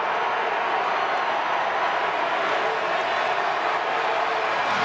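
Football stadium crowd at a college bowl game, a dense, continuous roar of cheering and shouting that stays loud and steady throughout.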